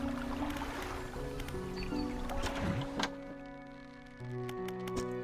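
A fishing boat engine in the video game Dredge hums quietly and steadily beneath sustained tonal drones, with a few soft splashy gurgles.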